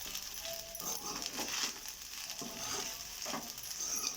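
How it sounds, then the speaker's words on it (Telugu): A spoon stirs a sabudana mixture with grated beetroot in a pan, giving soft repeated scraping and scuffing strokes over a low background sizzle, close by and without talk. "ఒకసారి మళ్ళీ కలుపుకుందామండి"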